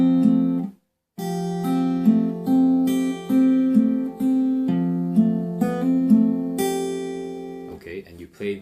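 Fingerstyle acoustic guitar plays the chorus-to-verse transition of a song, with steady plucked notes ringing over low bass strings after a short opening gap, ending with a brief soft noise.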